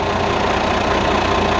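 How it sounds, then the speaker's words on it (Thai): A Toyota Hilux Rocky truck's 270-horsepower engine idles steadily at close range, a continuous low rumble with a faint knocking texture and no voices. "นี่เครื่องติดแล้วนะครับ"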